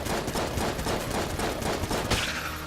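Dense rapid gunfire in the video game Enter the Gungeon, a continuous barrage of overlapping shots and crackling bursts that stays loud throughout.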